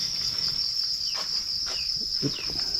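Copper crickets kept in a farm enclosure chirp continuously in a dense, steady high trill, with faint soft knocks and rustles beneath.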